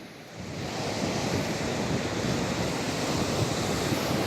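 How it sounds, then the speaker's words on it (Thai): Sea waves wash onto a Gulf of Thailand beach in stronger than usual surf after a storm, with wind buffeting the microphone; a continuous loud roar of surf and wind rises quickly and then holds steady. "ตอนนี้คลื่นลมก็ ถึงจะแรงกว่าปกตินิดหน่อยแต่ก็ไม่ได้เป็นอันตรายอะไรนะคะ"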